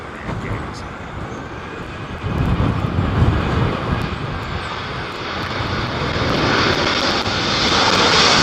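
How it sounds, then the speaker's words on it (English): A United Boeing 777-200 lands at Heathrow in stormy wind, its engines a loud broad roar that swells steadily, blended with gusty wind buffeting. "next arrival is United Boeing 777-200 from Houston"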